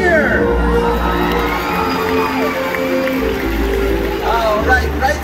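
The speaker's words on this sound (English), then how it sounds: "Give her a cheer!" Audience at a SeaWorld orca show cheers and whoops loudly throughout, a dense crowd roar with children's shouts, steady and close, with an announcer's amplified voice faintly mixed in.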